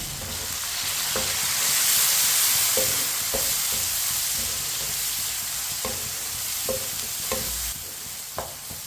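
Chopped tomatoes and green chillies stirred in a frying pan while cooking kala chana, giving a steady close sizzle broken by repeated scraping spoon strokes, with no talking.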